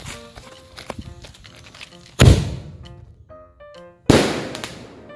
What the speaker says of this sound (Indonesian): Ini dia yang pertama, mercon Bima Sakti.